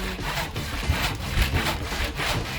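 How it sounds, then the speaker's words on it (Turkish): A hand saw rasps back and forth through wood in steady, repeated strokes, close and fairly loud with no voices. "Daha büyük bir testereyle deneyeyim"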